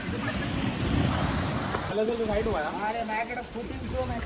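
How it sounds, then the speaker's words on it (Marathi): Sea water rushes and surges in a loud, steady roar on the Konkan coast, the water pulling back fast, with a person talking over the waves partway through. "पाणी ते खेचतंय बघा, किती फास्ट खेचतंय बघा पाणी"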